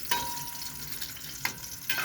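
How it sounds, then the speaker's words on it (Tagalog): Hotdog frying in oil heated only by the sun, a soft steady sizzle with a few sharp crackles and pops standing out above it, close and fairly quiet with no talking. "Kumukulo pa yung mantika."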